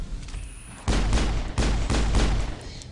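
Pistol fire in the video game Mass Effect: several loud, close shots in quick uneven succession, each a sharp blast over a faint steady game background.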